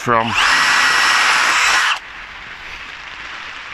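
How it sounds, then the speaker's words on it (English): A power drill with a spade bit whines loudly at high speed as it bores through a wooden internal door for a latch, then cuts off, leaving a faint hiss behind. "wait for the tip of the spade bit to come through the other side, and then I can drill"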